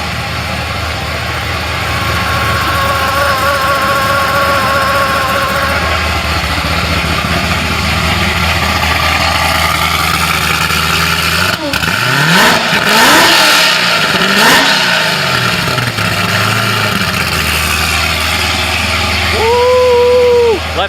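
A truck engine fitted with a Corsa Sport dual exhaust idles with a loud, close drone, then revs hard in a couple of rising and falling bursts midway before settling back to idle.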